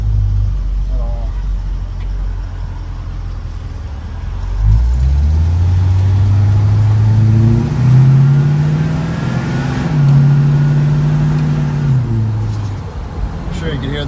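A 1957 Chevrolet two-door hardtop engine drones while driving, rising in pitch as it accelerates, dropping and climbing again through automatic shifts, a steady close rumble with faint talk over it.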